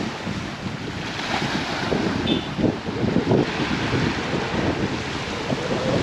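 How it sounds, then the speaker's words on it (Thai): Wind buffets the microphone while waves break and wash onto Laem Mae Phim beach in Klaeng, Rayong, a steady roaring surf close by with no voices. "ชายหาดแหลมแม่พิมพ์ครับอำเภอแกลงจังหวัดระยองครับ"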